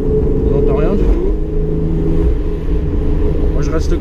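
A BMW E36 320i running on E85 ethanol revs through its loud exhaust line near houses, a deep droning engine note with shifting pitch, close and strong, with voices talking over it.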